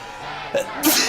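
A single sharp sneeze bursts out near the end after a short intake of breath, close and fairly loud against a quiet background.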